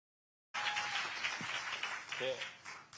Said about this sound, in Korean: 잘했다고 박수 한번 쳐줍시다.